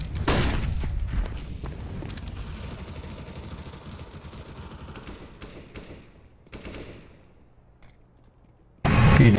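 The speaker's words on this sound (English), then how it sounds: "Deploying flashbang." A flashbang grenade detonates in a tactical shooter video game with a loud burst, followed by a ringing, decaying wash that fades into near silence before a sudden loud return of sound.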